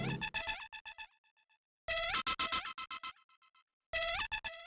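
A buzzy, distorted fuzz synth lead plays short bursts of stepping and bending notes, each phrase trailing off into soft echoing delay repeats, with silent gaps between.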